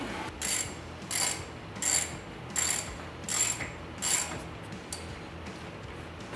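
A ratchet wrench tightens 10mm bolts on an aFe Magnum FORCE cold air intake in a 2012-2022 HEMI Dodge Charger, six short, crisp clicking bursts at a steady pace, close and alone.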